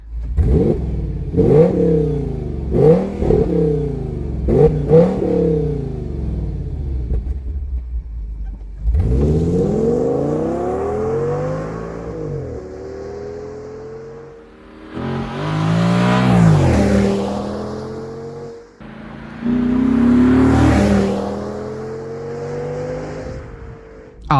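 Four quick throttle blips from a 2007 Audi S6 5.2 V10 engine with a stock exhaust, then several long, roaring revs that climb and fall, loud and close.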